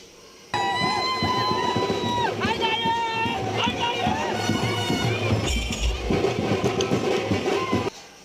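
A village crowd celebrates together with a dense, loud din of many voices, music and shouting that runs almost the whole time, starting abruptly and cutting off near the end.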